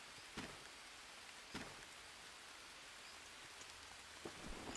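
Steady rain hisses continuously across the jungle in the survival game Green Hell, with a few sharper drop spatters standing out now and then; no one talks.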